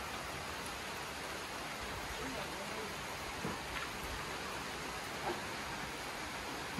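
Heavy rain pours down in a steady, dense hiss that fills the whole scene without letup, close and continuous, with faint voices barely audible beneath it.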